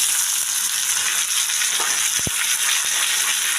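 Green peas hiss in hot oil with cumin seeds and dried chilli for a kachori filling, giving a dense, even sizzle with a couple of sharp crackles near the end.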